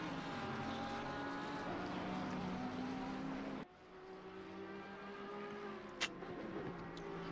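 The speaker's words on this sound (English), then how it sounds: "The Audi sounds absolutely beautiful though." Audi race car in a racing video game at Brands Hatch, its engine a steady loud drone with harmonic whine, a sharp drop in pitch midway like an upshift, then building again with a brief click near the end.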